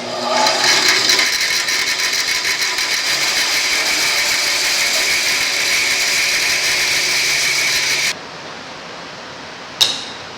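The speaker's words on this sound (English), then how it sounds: "Okay, I sawed those down on the bandsaw just to get some thinner pieces." A bandsaw cutting a block of African blackwood makes a loud, steady whine for about eight seconds, then cuts off sharply, followed by a single brief clack in the quiet.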